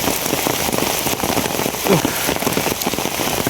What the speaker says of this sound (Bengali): মেঘ বৃষ্টির দিন। এখন বোঝা যাইতেছে যে আরো বাড়তেছে, এরকম একটা অবস্থা।